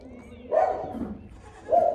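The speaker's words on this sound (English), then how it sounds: "you see these children, they're messing up with these dogs." Dogs bark in a few short bursts while children play with them, two louder barks standing out over a busy outdoor background.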